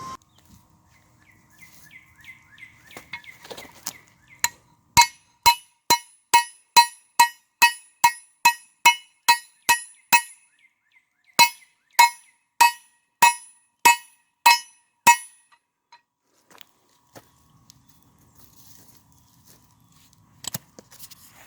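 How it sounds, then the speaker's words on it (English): A hammer forges the point of a steel survival knife blade, striking about twenty bright, ringing metallic blows in a steady rhythm, with one brief pause midway. The strikes are loud and close. "I'm gonna forge this point right here"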